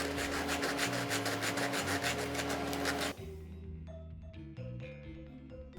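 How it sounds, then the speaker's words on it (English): A knife saws gently through crispy frozen beef and cheese chimichangas, giving a loud, dense crackling rasp for about three seconds, then quieter scattered crunches and light clatter. "Listen to how crispy these chimichangas are. We didn't want to push too hard with the knife,"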